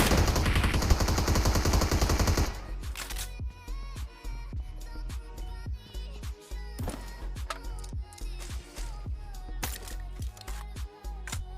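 Bursts of automatic gunfire in PUBG ring out in rapid, closely spaced cracks after a dense opening burst, loud and near, with little talk over them.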